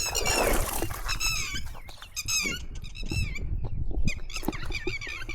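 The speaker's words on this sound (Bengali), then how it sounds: "আর চারিপাশে এই যে বকের সাউন্ড" Herons calling around a clear river, repeated squeaky, harsh cries from several birds at mid distance, overlapping over a soft outdoor background.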